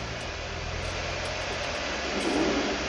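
A tractor engine in a farming video game drones steadily as it hauls a baler, a loud, continuous mid-pitched hum with slight revving swells and no speech.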